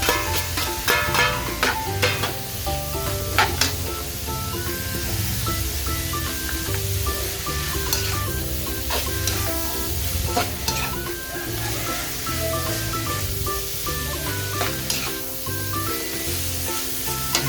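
Beef stir-fried with kangkong and chili in a hot pan, a loud continuous sizzle with scraping and stirring strokes throughout, close up, no talking.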